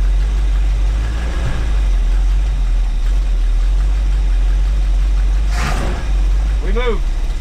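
A 1984 motorhome's engine running steadily as it is put into gear, a constant low rumble close by throughout, with brief mechanical clunks and someone speaking over it.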